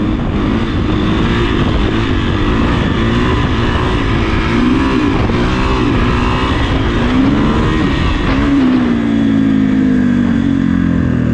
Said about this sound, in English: Let me let this car pass.